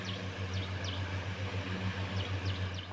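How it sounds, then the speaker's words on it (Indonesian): An electric fan motor running on solar power through a modified sine wave (MSW) inverter gives a steady, low, buzzy hum that holds constant throughout, with faint bird chirps now and then in the background. "Untuk yang nomor 2 suaranya seperti ini dari mesin kipasnya."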